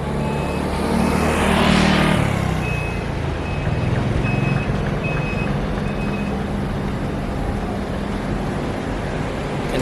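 A Taiwanese battery electric bus pulls into a bus station, rising to a loud pass nearby and then settling, with a regular reversing beep repeating over steady traffic and station noise.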